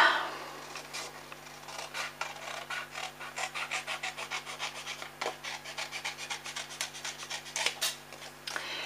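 A paper card for a Halloween craft is being cut. Close, dry rasping strokes repeat in a steady rhythm with a few sharper snips. No one talks.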